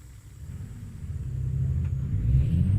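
A truck engine in American Truck Simulator, a low rumbling drone that grows gradually louder as it pulls away, heard alone with no talking.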